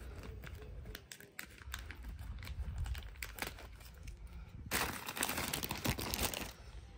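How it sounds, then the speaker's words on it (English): Close, crinkly cutting and rustling of plastic packaging being cut open with scissors, with scattered snips and a louder burst of tearing plastic toward the end. "I want to take scissors so that I cut and see what it's inside."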